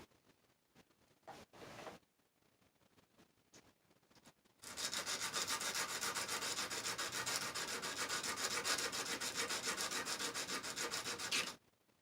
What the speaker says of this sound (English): I'm sanding the terminals here just to give me a nice, good solder flow